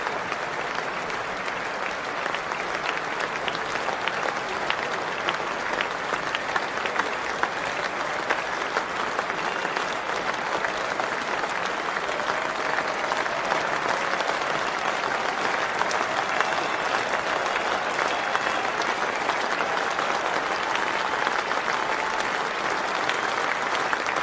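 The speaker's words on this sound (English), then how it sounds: "let's listen to the applause he gets as he leaves the ground" A crowd at Lord's cricket ground gives sustained, steady applause as Brian Lara walks off during an MCC versus Rest of the World match, a broad even roar of clapping from the stands throughout.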